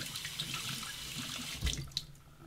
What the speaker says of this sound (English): Soak that under the warm water.